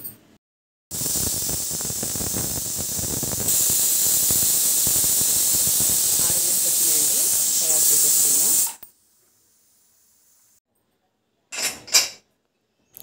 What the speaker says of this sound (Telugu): మీడియం ఫ్లేమ్ మీద ఒక 6 విజిల్స్ రానిద్దాం